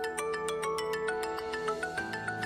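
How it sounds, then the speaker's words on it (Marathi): A telephone ringtone repeats in a steady series of short electronic chirps over a sustained melodic tone, with no voices over it, during a scene in a Marathi TV serial. "अगं उचल फोन."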